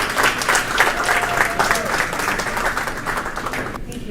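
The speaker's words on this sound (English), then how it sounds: "Huge round of applause" Audience applause at a product design talk, a dense close burst of many hands clapping with some crowd noise, holding steady before cutting off at the end.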